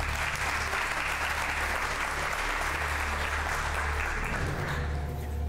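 An audience breaks into steady, dense applause, a continuous wash of many hands clapping that holds throughout and eases slightly at the end, with no talking over it.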